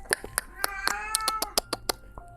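A cat meows in a drawn-out, wavering cry in the middle of the clip, surrounded by sharp clicks and taps close by.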